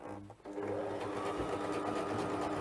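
A sewing machine stitches through thick fabric for a journal cover, humming and rattling steadily up close after a brief pause at the start.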